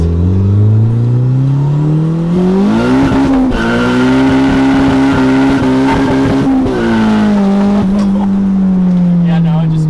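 A car fitted with a Valvetronic Designs exhaust launches hard in first gear with its wheels spinning, giving a loud, close, continuous roar. The pitch climbs, holds high through the wheelspin, then eases near the end.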